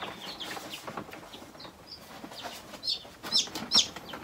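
Silkie chickens clucking nearby, a run of soft chattering clucks and chirpy calls that grow louder and sharper toward the end, close by indoors.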